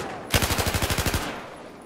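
Automatic machine gun fire from a video game: a rapid, evenly spaced burst of about ten loud shots lasting under a second, close and dominant, with no talking over it.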